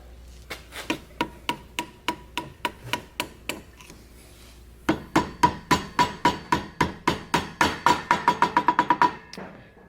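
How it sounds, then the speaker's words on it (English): A claw hammer taps a part into a Chevrolet 700R4 transmission case with a long run of sharp, ringing metallic blows. The strikes start evenly spaced, turn louder after a short pause, then speed up into a quick burst of close taps with no talk. "I know it's a claw hammer"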